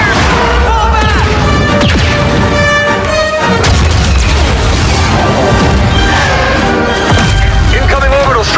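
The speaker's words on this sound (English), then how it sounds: "Incoming orbital strike." Orbital strike explosion in a Star Wars Battlefront combat demo: a very loud, sustained roar of booms and crashes with heavy low rumble throughout, layered with music and voices.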